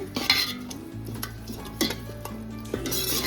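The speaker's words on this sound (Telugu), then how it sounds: "కొంచెం ఆయిల్ బయటకు వచ్చేదాకా మనం ఇట్లా వేయించుకున్నామండి." Tomatoes and masala spices frying in oil for kushka rice, a continuous close sizzle punctuated by several sharp spoon scrapes and clinks against the pot at irregular intervals.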